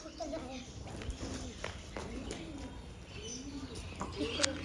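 A paralysed pigeon perched near a water tank coos in soft repeated low phrases, with people talking close by and faint footsteps around it.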